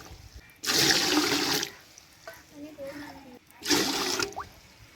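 Water is poured into a cooking pot for biryani rice in two distinct gushes, each a loud, splashing rush lasting about a second, separated by a quieter stretch with light trickling and faint voices.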